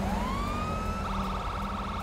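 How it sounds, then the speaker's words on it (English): A police siren in a video game wails steadily, its pitch rising then switching to a faster warble partway through, heard over a low engine rumble. "I hear the siren."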